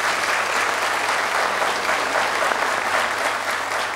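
A studio audience at a TV show applauds for an auction host, dense, loud, continuous clapping that holds evenly from start to finish.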